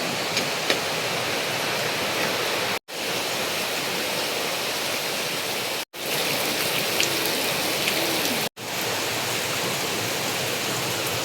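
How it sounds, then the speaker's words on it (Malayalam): Heavy rain pours steadily outdoors as a dense, even hiss with no pauses, interrupted only by a few brief cuts. "മഴ ശക്തി പ്രാപിക്കുന്നുണ്ട്."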